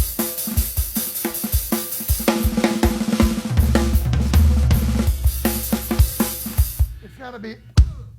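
Heavy-handed rock drumming played without kick and snare, hard cymbal and tom hits in a steady driving rhythm with a low rumbling undertone, close and loud, ending in a final crash.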